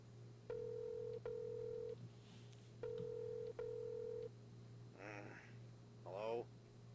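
A telephone in the video game Alan Wake 2 gives two pairs of steady electronic ring tones, followed by short bursts of muffled voice through the handset, over a low constant hum.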